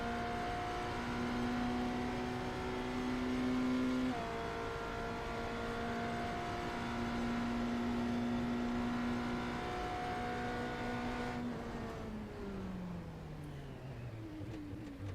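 A race car engine in the iRacing simulator at the Daytona road course hums steadily at fairly constant revs, then drops in pitch as it slows near the end, moderately quiet with no talking.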